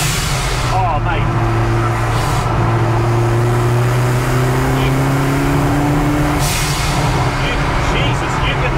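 ZCars Hillman Imp with a 16-valve turbocharged engine accelerating hard through the gears, a loud steady engine drone rising in pitch throughout, with people talking over it inside the car.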